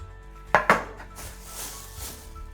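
A knife chops cluster beans (guvar) for a potato curry, with two sharp close knocks on a board followed by fainter cutting taps in a quiet kitchen.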